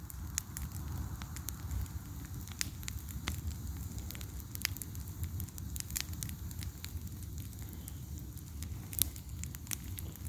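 A small bonfire of dried wood burns outdoors on a cool evening after rain, with steady soft roaring and frequent sharp crackles and pops close by.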